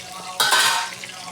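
Curry leaves, cumin, coriander seeds and dry red chillies hit hot oil for tempering, bursting into a loud, close sizzle with sharp crackles that then settles into a steady fry, no talking.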